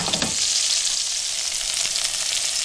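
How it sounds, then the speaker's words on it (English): Carrots and sweet potatoes sautéing on medium-high heat for a Thai red coconut curry, a loud, close, continuous sizzle with faint stirring, no talk. "I've been sauteing this for a little while now on high heat, high to medium heat."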